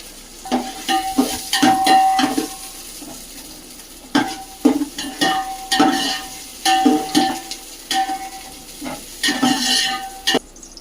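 Chopped onions sizzle in a hot pan while a spoon repeatedly scrapes and stirs, with occasional metallic clinks against the pan; no talking.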